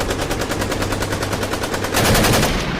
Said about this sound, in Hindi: चारों ने एक साथ गोली चलाई। दन दन दन दन आवाज हुई।